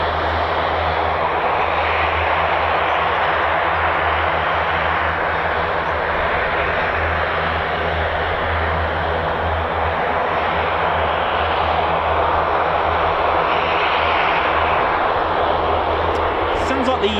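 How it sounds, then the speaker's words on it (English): A C-146 Wolfhound, a twin-engine high-wing Special Operations military aircraft, gives a steady, loud, continuous engine drone throughout, with no clear change in distance. "It's a twin-engine, high-wing aircraft used by Special Operations Command."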